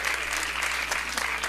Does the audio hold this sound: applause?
yes